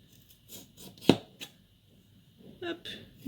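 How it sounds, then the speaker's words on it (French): A knife trims the edges off a raw potato for pont-neuf chips, making a few scattered crisp cuts and scrapes on a board with one sharp chop in the middle, close but quiet, amid soft rustling. "Je coupe les bords."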